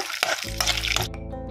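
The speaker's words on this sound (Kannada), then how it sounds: "ಇದು ನೋಡಿ, ಕಡಲೆ ಇವಾಗ ಸ್ವಲ್ಪ ಫ್ರೈ ಆಗ್ತಾ ಬರುವಾಗಲೇ" Chickpeas fry in a pan, giving a short crackle and sizzle with a few sharp pops and a low hum underneath, brief and close.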